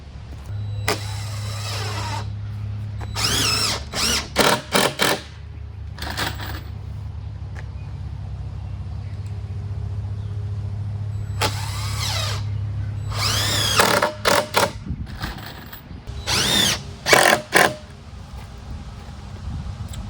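A power drill drives 3-inch screws into a sawhorse in repeated short bursts, each whirring burst stopping and restarting several times, loud and close, with a steady low hum running underneath for long stretches.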